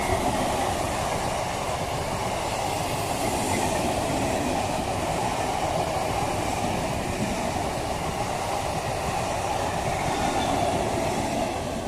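The Sealdah–Santipur local passes Kanchrapara Workshop Gate station with a loud, unbroken rumble and rail clatter that holds steady from start to finish, with no voices.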